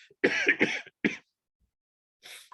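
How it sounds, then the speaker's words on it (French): Several harsh coughs in quick succession close to the listener, then silence, and a faint breathy cough or throat clear at the end. "rien que ce mot me fait tousser"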